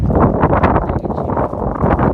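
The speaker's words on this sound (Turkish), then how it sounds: "Her taraf açık olduğu için rüzgar direkt geliyor." Steady, heavy wind at an open-air used car market buffeting the microphone with continuous low rumble and gusting surges throughout, no voices.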